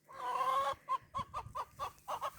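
Laying hens cluck nearby in a garden setting, a longer drawn-out call followed by a rhythmic series of short clucks, fairly faint.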